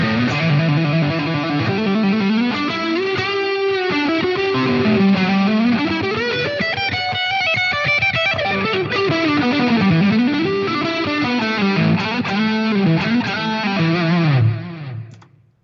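Electric guitar played through a Line 6 Helix Soldano amp model with chamber reverb, a continuous distorted lead line with sustained bending notes and chorus-like shimmer that rings out loud and alone before cutting off at the end.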